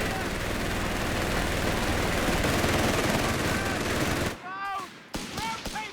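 Sustained machine-gun fire in the video game Company of Heroes 3, a dense unbroken roar of rapid shots for about four seconds, then breaking into a few separate bursts and tonal battlefield effects.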